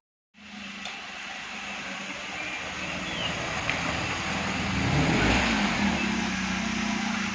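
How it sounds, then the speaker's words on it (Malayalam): A car arrives at a house, heard as a steady engine and road rumble that starts suddenly and slowly grows louder, with no talk over it. "ആ ഒരു കാറിൻ്റെ ഒച്ച കേൾക്കുന്നുണ്ട്"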